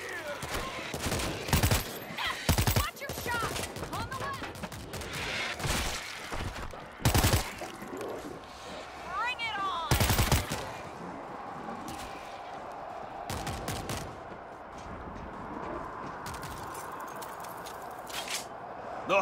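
A .50-caliber machine gun fires in World War Z, its loud sharp reports coming in irregular bursts and single shots across the span, with speech and other game noise underneath.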